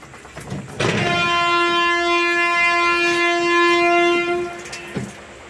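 A Chamarajanagar Express train sounds a long, loud steady horn over the rumble of the carriages on the rails, heard close by and alone for several seconds.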